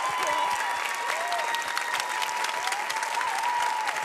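A dance-show audience applauds continuously with dense, even clapping that holds steady throughout, and a few faint whistling bird calls are mixed in.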